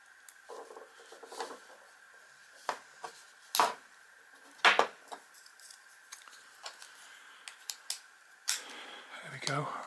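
A small metal locating pin cut off a Suzuki Jimny ignition key makes a series of sharp, close clicks and snaps at irregular intervals against a quiet background, with a brief scraping rustle at the end.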